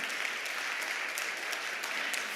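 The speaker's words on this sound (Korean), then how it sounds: "일어서시면 환영의 박수 드리겠습니다" A church congregation at a Sunday service claps to welcome first-time visitors, a steady wash of many hands with occasional louder individual claps, continuous and moderately loud, with no voices.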